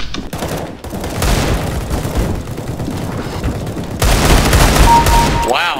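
Dense bursts of gunfire in a video game, loud rapid shots overlapping with booms, continuous throughout and intensifying near the end.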